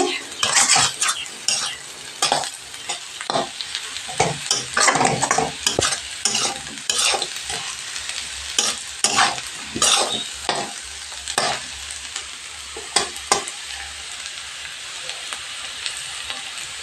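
Potato and soya chunks stir-fried in oil, with busy, repeated metal scraping and clattering of a spoon against the pan over a continuous crackling sizzle, close and fairly loud.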